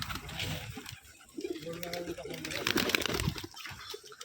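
Rajshahi Giribaz pigeons at a loft coo in low, soft repeated calls, mixed with voices talking nearby and some background clatter.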